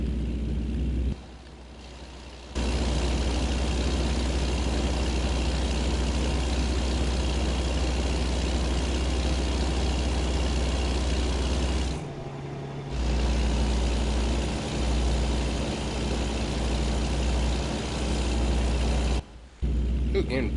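A Kenworth truck in American Truck Simulator rumbles with a steady low engine and exhaust drone that stays nearly constant, dipping briefly a few times.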